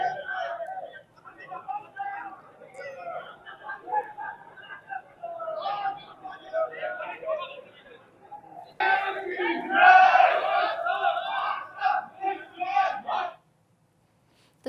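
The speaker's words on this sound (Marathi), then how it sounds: "महापौर उपमहापौरांच्या निवडीनंतर आता कार्यकर्त्यांचा एकच जल्लोष पाहायला मिळतो" After the Pune mayor and deputy mayor election, a crowd of party workers cheers and shouts slogans together. The noise builds into a louder, excited roar partway through, then cuts off abruptly near the end.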